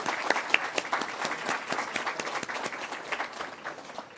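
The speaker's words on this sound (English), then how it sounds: "let's give a round of applause to Solutions Learning Center" Audience applause at a digital inclusion awards ceremony in Nova Scotia, honouring Solutions Learning Center: dense, steady clapping from a seated crowd, even and sustained throughout with a few sharper individual claps near the start.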